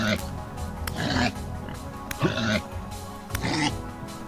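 Pigs in the video game Vintage Story give three short grunting oinks at a steady pace, close and fairly soft, with a player talking over them.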